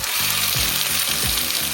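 Coriander paste hits hot oil already holding mustard seeds, cumin seeds and curry leaves, giving a loud, steady, close sizzle and crackle that runs without a break.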